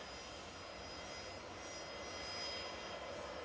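Ryanair airliner departing Manchester Airport, its engines giving a steady, broad roar with a faint high whine that holds fairly constant throughout, heard alone without voices.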